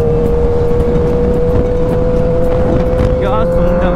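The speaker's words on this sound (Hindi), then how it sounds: "इतना शोर कर रही हैं दोनों बाइकें" Loud, steady engine roar of two Hayabusa superbikes at speed, a constant droning whine with wind noise, close by and unbroken throughout.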